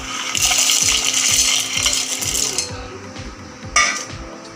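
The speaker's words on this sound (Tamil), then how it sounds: "இப்போ மிக்ஸி ஜாரில் சேர்த்துக்கோங்க." Shelled peanuts are tipped into a mixer grinder jar for chutney, making a close, rapid rattling clatter against the jar with no talking.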